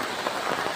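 Heavy rain pours steadily onto an umbrella and the ground while someone walks along a street, a dense, even hiss with no pauses.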